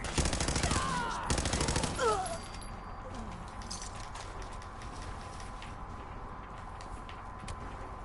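Rapid bursts of gunfire from a Fallout 4 weapon firing .38 caliber rounds, loud dense volleys in the first two seconds, then fading into quieter game ambience.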